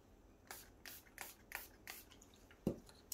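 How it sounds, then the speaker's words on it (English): Spray is spritzed onto a resin mold in about five quick, close, evenly spaced bursts, followed by a single soft knock. "So I'll spritz this"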